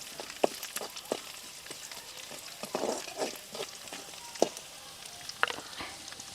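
Five to eight cloves of finely chopped garlic fry in a pan, giving a soft, steady sizzle with scattered crackles and a few sharp clicks of stirring, close by with no voices.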